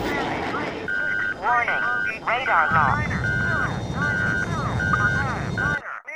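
F-22 flight-sim jet from F22 Total Air War, steady engine roar with a string of repeated tonal missile-launch warning beeps and whooshes, loud and continuous, cutting off abruptly near the end.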